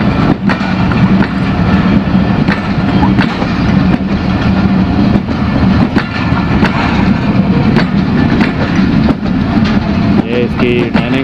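Old passenger coaches and a dining car of the Parakram Express roll past, a steady loud rumble with rhythmic clickety-clack of wheels over rail joints and occasional sharp knocks, continuous throughout.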